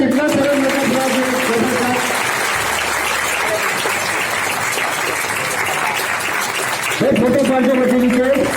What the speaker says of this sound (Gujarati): તાળીઓના ગગડા કેટલા સરસ મોટા થયા છે.